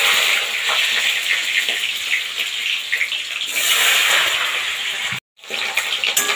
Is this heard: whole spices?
yes